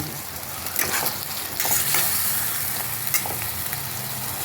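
Ground poppy seed and nut paste sizzles and fries in a hot pan while being stirred, a steady close hiss with scraping bursts and no talking.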